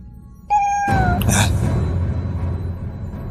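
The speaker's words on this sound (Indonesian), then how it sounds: "suara kucing." A cat meows outside a house at night, a single drawn-out meow with a falling pitch, followed by a low rustling background.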